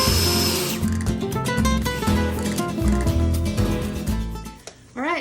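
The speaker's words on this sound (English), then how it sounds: "Now we're gonna process this in the food processor to make a nice smooth mixture." Food processor whirring loudly and steadily as it purees salsa verde with beef broth, serrano peppers and cilantro, the motor tone wavering slightly before a brief dip and restart near the end.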